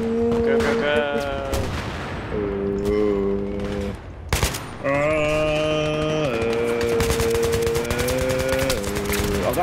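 Dense bursts of automatic gunfire and scattered shots from Battlefield 3 multiplayer, with steady sustained tones running underneath and one short lull partway through.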